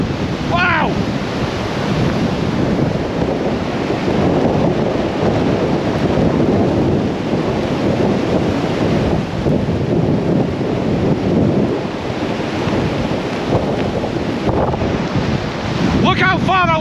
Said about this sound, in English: there goes the wind. Blowing me completely.